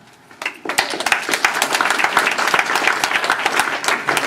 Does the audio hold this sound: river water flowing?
no